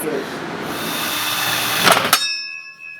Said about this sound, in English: Just busted that drill bit.